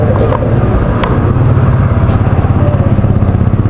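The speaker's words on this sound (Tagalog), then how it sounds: "Dito nakapila yung motor. Dito sa kantuhan." Several motorcycles idle in a queue at a street corner in San Bartolome, Quezon City, their engines chugging loud and close with a steady rumbling pulse.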